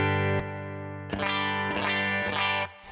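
An electric guitar runs through a Thorpy FX Fat General compressor in juicy mode, with sustained chords and a few strummed changes that are heavily compressed and slightly driven, loud and alone.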